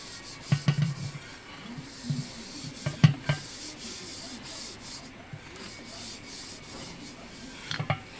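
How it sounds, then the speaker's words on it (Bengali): A hand spreads white cooking oil over the outside of a cooking pot for making homemade doi: soft, close rubbing and smearing with a few sharper scuffs and knocks scattered irregularly. "হাত দিয়ে ভালোভাবে হাঁড়িটার গায়ে কিন্তু মাখিয়ে নিতে হবে।"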